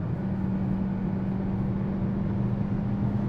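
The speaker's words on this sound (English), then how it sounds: "We're gonna stomp on it from 75 and just kind of see what it does." A 2025 Hyundai Sonata with a 2.5 liter engine is floored from 75 mph, heard from inside the cabin as a loud, steady engine and road drone with a constant low hum.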